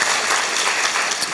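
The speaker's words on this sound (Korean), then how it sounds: "이거 박수 안 쳐요?" A lecture audience of university students applauds in a brief, dense burst of many hands clapping together.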